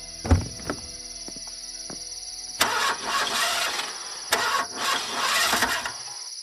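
A car engine cranks in a few short bursts that do not catch, with longer grinding stretches following, close and fairly loud, on a car whose battery appears weak.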